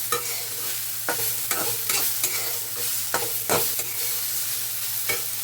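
Ridge gourd peel fries and is stirred in a pan, a steady sizzle broken by repeated sharp scrapes of the spatula at an uneven rhythm, close and clear, with no talking.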